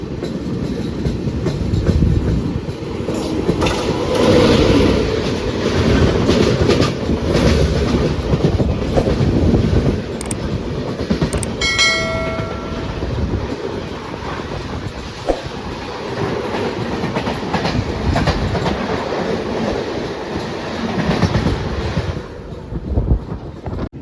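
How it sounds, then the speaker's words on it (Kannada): The Hazrat Nizamuddin–Goa Express passenger train rumbles past close by near Jhansi Junction, with steady clattering wheels and rushing wind noise, a brief high squeal midway, continuous and loud throughout. "ಕ್ರಾಸಿಂಗ್ ಆಗತ್ತೈತೆ ನೋಡ್ರಿ ಟ್ರೈನ್"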